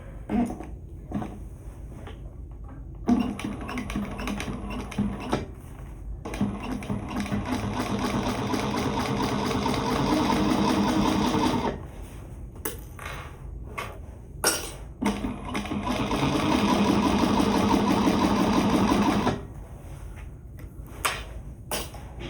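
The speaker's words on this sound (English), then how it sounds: "I'm going to change my stitch length back to a 4 and stitch at the 3/8" A sewing machine stitches a shoulder bag at a long stitch length, running in steady bursts of a few seconds each with short pauses between, close and clear with no talking.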